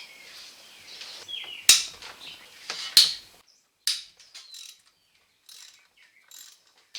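An air ratchet zips and clicks in sharp, irregular bursts while backing out water pump bolts on a GMC Sierra 5.3L, with metallic taps and a few quieter clicks between pauses.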